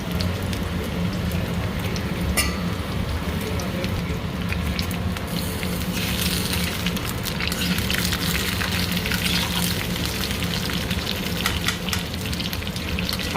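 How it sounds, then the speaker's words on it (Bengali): Mango pieces fry lightly in a pan for a sweet-and-spicy mango chutney, making a continuous dense crackling sizzle with occasional small pops, close and fairly loud. "হালকা ভেজে নেবো আমগুলো"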